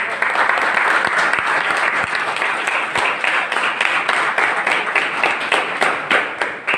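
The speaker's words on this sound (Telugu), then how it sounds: "గట్టిగా క్లాప్స్" Sustained applause from an audience at a training meeting, dense and steady clapping that continues throughout with little variation in loudness.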